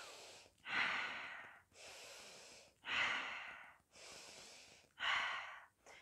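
A man breathes slowly during a relaxation massage, drawing air in through the nose and letting it out through the mouth, three soft, even breath cycles close to the microphone with quiet pauses between.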